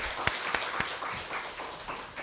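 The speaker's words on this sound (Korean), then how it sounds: "박수 한번 하겠습니다." A congregation applauds during a Korean church Sunday service, a steady spread of many hands clapping at moderate distance with a few sharper individual claps near the start.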